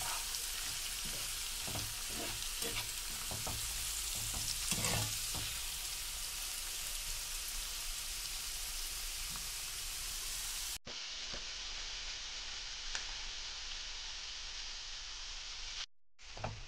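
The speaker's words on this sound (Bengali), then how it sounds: "পেঁয়াজ বাটা দিয়ে এটা ভালো করে তেলের সাথে নাড়াচাড়া করে খুব ভালো করে এটা তেলের সাথে ভাজতে হবে।" Onion paste fries in oil for a yogurt rohu fish curry, giving a steady close sizzle with a series of stirring scrapes early on, then a brief cut and a slightly thinner, continuing sizzle; no voices.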